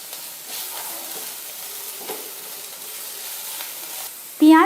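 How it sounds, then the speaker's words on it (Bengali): Onion, garlic and chillies fry and get stirred in a pan, a steady soft sizzle running throughout with occasional faint scrapes, ending in a brief louder clatter at the very end. "পেঁয়াজ, রসুন আর লঙ্কা আমি বেশ খানিকক্ষণ নাড়াচাড়া করে নিয়েছি।"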